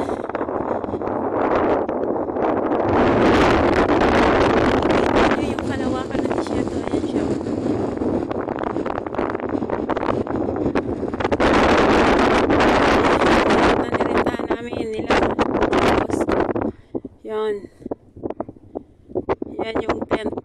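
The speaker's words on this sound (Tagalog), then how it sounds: "Ang hangin dito sa bundok na buhangin." Strong wind roars and buffets steadily across open desert dunes, heavy gusts battering the microphone before easing near the end.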